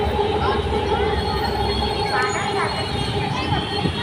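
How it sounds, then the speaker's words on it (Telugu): A metro train runs past the Uppal skywalk area, a loud continuous rumble of wheels on rails with tonal whines and screeches on top, and faint voices in the mix. "మెట్రో మళ్ళీ"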